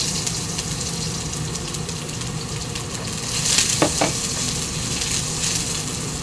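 Eggplant fries in a small amount of oil, a steady close sizzle that swells briefly in the middle with a couple of sharp crackles, no voices.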